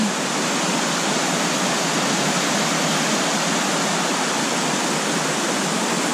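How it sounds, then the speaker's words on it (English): A steady, broadband roar of a small waterfall at Smokemont in the Great Smoky Mountains fills the scene without pause, loud and close, with no voices. "Nice little waterfall."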